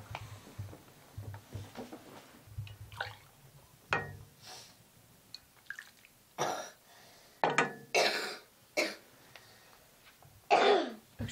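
A young girl coughs and clears her throat repeatedly in a quiet indoor room, a series of short, sharp bursts that grow louder and more frequent, with faint household clinks between them.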